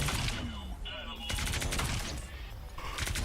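Ultron's primary fire in the Marvel Rivals video game: several sharp energy-weapon shots spaced with pauses between them, loud and busy over game effects, with a voice talking partway through.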